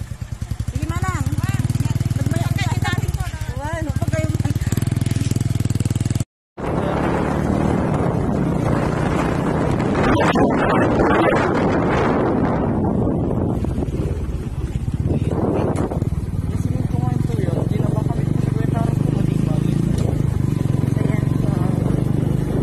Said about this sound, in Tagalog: sakay po tayo ng motor